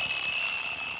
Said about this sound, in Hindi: इसका मैं आपको अलार्म सुनाने वाला हूँ अभी।